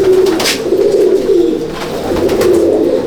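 Steady, close cooing from Andhra and Madrasi pigeons in a loft, overlapping throaty coos rolling on without pause, loud and free of talk.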